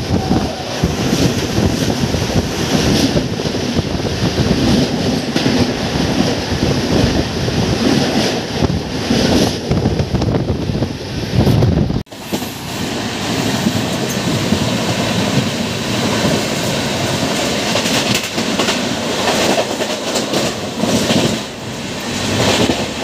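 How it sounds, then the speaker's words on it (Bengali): The 12839 Chennai Central–Howrah Mail Express thunders past, a loud continuous rushing roar with heavy wind buffeting that lasts throughout, broken by one brief dip near the middle. "আমাদের যে ট্রেনের সাথে দেখা হবে তার ট্রেন নাম্বার হচ্ছে 12-839 MGR Chennai central Howrah mail এক্সপ্রেসের সাথে"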